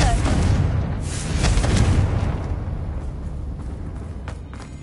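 Booming blast from the Confringo fire spell in the Hogwarts Legacy game, a heavy explosion that swells and rumbles before fading out, with voices talking underneath.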